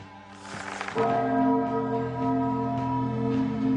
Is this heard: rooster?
no